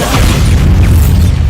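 Bombarda spell blast in the Hogwarts Legacy video game, a loud sustained low boom with rumbling debris filling the whole moment, no voice over it.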